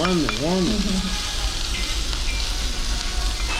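Steady crackling sizzle of food frying on a hot skillet plate at a Pepper Lunch restaurant, close and continuous, with a brief sung or wavering voice at the start.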